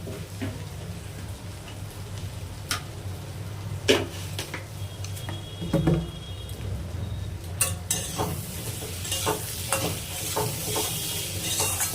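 Onions frying in a pan while a curry is cooked, a steady close sizzle with stirring scrapes and occasional utensil clicks throughout, growing brighter and louder toward the end.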